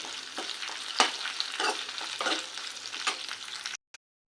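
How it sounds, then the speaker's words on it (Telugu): Dried red chillies and spices fry in a pan, giving a moderately loud crackling sizzle punctuated by rhythmic stirring scrapes, then a short break of silence before the sound resumes. "ఇలా బాగా మిక్స్ చేసుకుని వీటిని కూడా వేగనిద్దాం కొంచెం మనం ఎండుమిర్చి త్వరగా వేగిపోతుంది"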